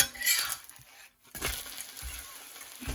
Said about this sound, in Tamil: இப்போ இது ஒரு பக்கம் வந்து வெந்து வந்துட்டு பாருங்க இதை மற்ற பக்கத்துக்கு திருப்பி விட போகிறேன்